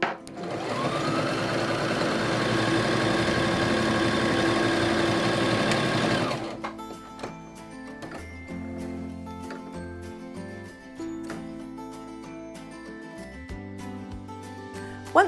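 A sewing machine stitching a seam along the edge of fabric pieces for a wrap skirt, a steady whirring run of about six seconds followed by quieter ticks and light handling sounds.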